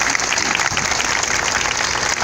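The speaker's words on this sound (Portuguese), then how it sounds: "saudar os sacerdotes aqui presentes com a salva de palmas" A church congregation applauds the priests during Mass, a steady wash of many hands clapping together throughout, dense and fairly loud with no talk over it.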